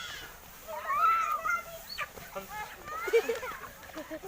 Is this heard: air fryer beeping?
no